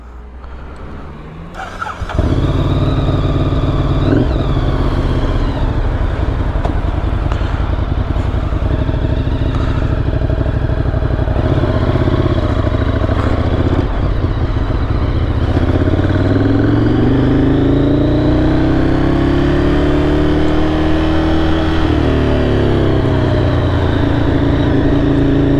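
A Ducati Monster 1100 EVO motorcycle engine cranks and fires up, then settles into a loud, close idle with a rumbling, clattering beat, rising through a smooth rev partway through and falling back again.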